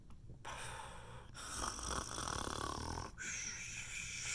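A voice imitates snoring in a read-aloud of an Elephant & Piggie picture book about taking a nap, giving long, rasping, breathy snores separated by short pauses.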